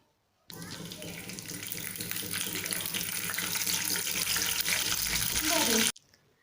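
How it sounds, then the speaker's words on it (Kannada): Onions sputter in hot oil in a pan, a loud, steady sizzling hiss that starts abruptly, builds slightly and cuts off sharply after about six seconds, close to the listener. "ಮೂಲು ಸೌಂಡ್ ಬರೊಂದುಂಡು ಎಣ್ಣೆ ರಟ್ಟೊಂದುಂಡು"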